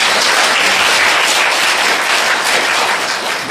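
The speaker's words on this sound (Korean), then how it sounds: "우리 축하의 박수 한번." A church congregation at a Sunday worship service breaks into dense, steady applause, many hands clapping together at close range and fading slightly at the end.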